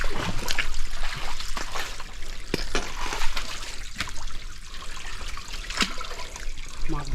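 Water trickles and splashes steadily through a fishing net set in a stream, a continuous close rushing and dribbling with small splashes throughout.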